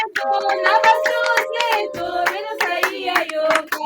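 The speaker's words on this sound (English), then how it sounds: "Let's clap." A congregation claps at a church service, sharp hand claps punctuating a sung or chanted melody with voices carrying tonal lines throughout.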